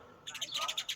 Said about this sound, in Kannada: ಗುಬ್ಬಚ್ಚಿ ಗೂಡು ಕಟ್ತಾ ಇದೆ.